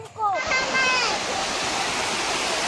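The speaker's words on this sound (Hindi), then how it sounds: "ये डैम का पानी है," Rushing water pours steadily at Bhushi Dam in Lonavala, a broad continuous roar that holds close and loud throughout, with brief voices at the very start.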